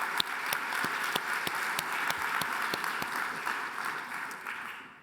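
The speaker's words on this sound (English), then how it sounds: "So we can get a round of applause for Shubham." Applause from an audience at a tech showcase keeps up an even wash of clapping with a few sharp, close claps standing out, then tapers off at the end.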